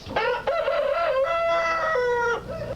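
A neighbours' rooster crows close by, one long drawn-out cock-a-doodle-doo with a rising start and falling end, loud and clear with no talk.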